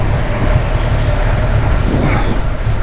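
A Triumph Rocket 3 R motorcycle accelerates under a steady, loud low rumble blended with heavy wind roar throughout, with no distinct gear changes and no talking.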